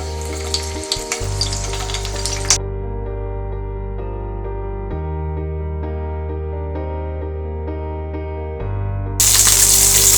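Fritters of dried fish (chepa shutki) wrapped in bottle gourd leaves sizzle steadily in hot oil in a pan. The frying is close and continuous, with a low tonal hum underneath and no talking.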